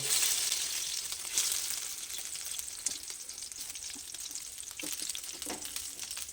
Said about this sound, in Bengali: এবার ওই তেলের মধ্যে আমি একটা একটা করে এগুলোকে দিয়ে ভেজে নেব